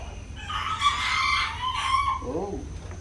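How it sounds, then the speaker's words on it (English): A young rooster crows close by on a homestead, one strained, rising call that trails off, followed by a brief low cluck. "that little rooster's getting his voice there"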